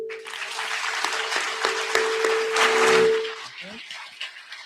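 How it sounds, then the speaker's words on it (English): Audience applause fills the hall at an interfaith dialogue event, a dense wash of clapping that holds steady and then fades away, with a faint tone and a few voices underneath. "I think now you have to give applause for all of them."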